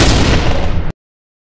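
A bomb explodes in the Melon Playground video game, giving one loud, dense blast of broadband noise that lasts close to a second and then cuts off into silence.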